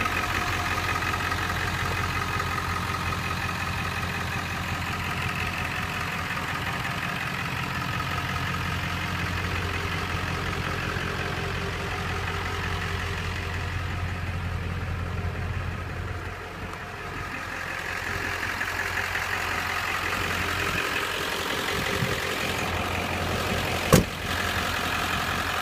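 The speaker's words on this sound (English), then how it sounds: "Engine is really clean, runs great," A 1997 Ford F-350 4x4 with a 7.3 Powerstroke diesel and 5-speed idles steadily, a constant low rumble with a droning hum and no revving, close and alone apart from a tiny click near the end.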